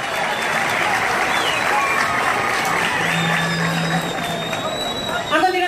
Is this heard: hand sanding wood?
no